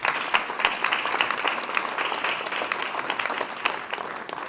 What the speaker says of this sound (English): in a round of applause for Vivian Antunes